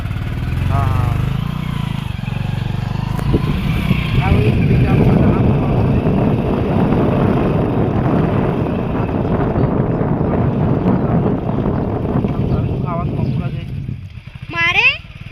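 A motorcycle rides along a road, its engine droning steadily under wind rush, with people talking over it and a brief chirpy sound near the end.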